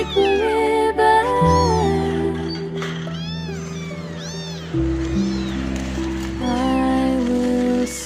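Several kittens meow repeatedly in high, rising cries close by, overlapping one another over a steady background of soft sung music.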